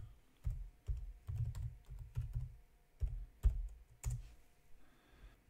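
Computer keyboard typing while entering a CSS selector in browser developer tools, close and clear: irregular bursts of quick key clicks with short pauses between, no voices.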